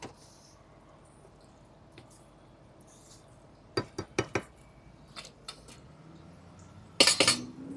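A utensil stirring Spanish rice with pearl oyster mushrooms in a pan, a few sparse scraping clinks in a quick cluster, then a louder scrape and clatter near the end over quiet background.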